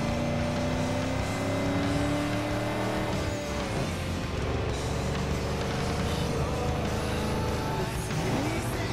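Hummer H4 driving in the racing game Need for Speed: Underground 2, a loud continuous engine drone with shifting pitch as it accelerates, tires briefly squealing.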